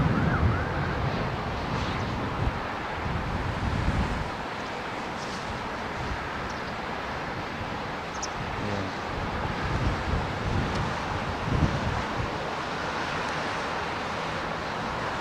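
Avianca Boeing Dreamliner jet from Bogota at busy London Heathrow, a broad, steady roar with wind noise that holds loud and continuous throughout, with no talking.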